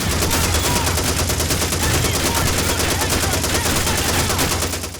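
Call of Duty 2 on Xbox 360 fills the scene with dense, loud, continuous gunfire from realistic World War II weapons, rapid shots layered over a noisy battle backdrop.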